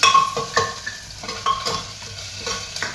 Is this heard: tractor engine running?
no